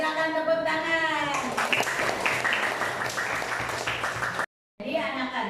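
Children in a classroom clap their hands together in a brief burst after a teacher's prompt, with speech heard over and around the clapping.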